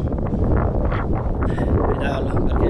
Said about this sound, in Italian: penso sentiate tutto questo vento che c'è